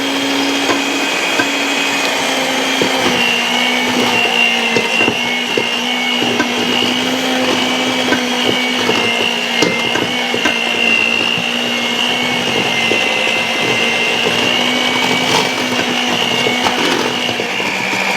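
Electric mixer running steadily on low in a deep bowl, blending two cups of powdered sugar into cream cheese frosting for a banana cake; a continuous loud whirring motor drone with no talking.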